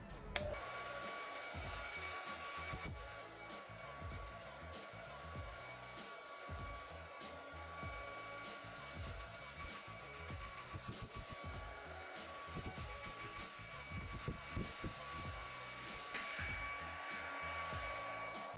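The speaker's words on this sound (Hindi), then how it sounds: "तो अब मैं अपना हेयर ड्रायर से अपने बाल को सुखाऊंगा पहले।" A hair dryer blowing on someone's hair: a steady, loud whirring roar that runs the whole time with only slight shifts in level as the airflow moves, and no speech.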